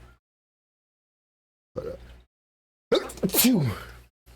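A single loud sneeze, preceded by a sharp inhale, close up in an otherwise quiet room.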